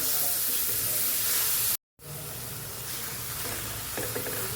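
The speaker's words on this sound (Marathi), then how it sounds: "त्यात आता आपण खिसलेली काकडी घालूया आणि व्यवस्थित मिक्स करून घेऊया" Grated cucumber stirred into softened tomatoes in a hot pan, a steady close sizzle and hiss with a short silent break midway before the frying resumes.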